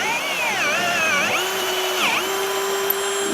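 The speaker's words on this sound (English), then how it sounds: "the bushing on the front, wrong size, so I had to drill it out" A power drill whines loudly while drilling out a vehicle's leaf spring front bushing, its motor pitch rising and dipping as it bites into material, then settling into a steady high hum.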